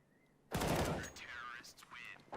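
Burst of gunfire in a Counter-Strike match, a sharp loud volley starting abruptly and decaying over about half a second, followed by quieter game sounds and a brief final pop.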